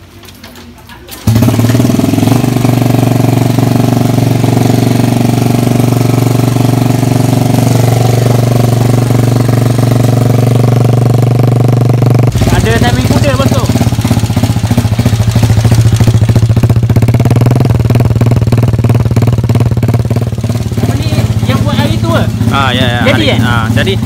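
A Honda EX5 motorcycle with a 58 mm bore and Ezo DS exhaust runs loud and close, its engine note droning steadily with a shift partway through, while people talk over it.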